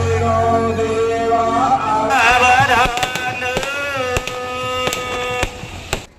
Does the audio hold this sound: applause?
no